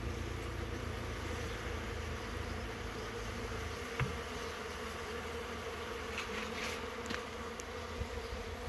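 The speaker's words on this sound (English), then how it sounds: "It's like a group of bees hanging out there." Honey bees swarm around a comb-filled hive frame as it is lifted out, producing a steady, dense buzz that holds evenly throughout, with a few brief louder passes as individual bees fly close.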